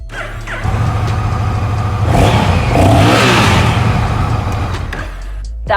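A 2021 Honda Rebel 1100 motorcycle engine fires up and settles into a loud, steady rumble, then swells into a rev before easing back, heard close with no talking.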